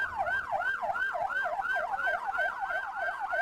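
An ambulance siren wails continuously in a fast rising-and-falling pattern, loud and close, with faint traffic rumble underneath, on a congested road.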